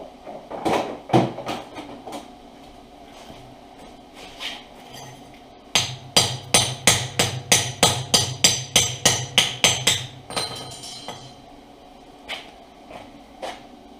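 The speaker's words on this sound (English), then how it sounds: "Get the slag hammer." Sharp metallic chipping strikes of a slag hammer on weld slag, a few scattered taps and then a fast steady run of about fifteen loud, ringing hits close by, tapering to occasional knocks.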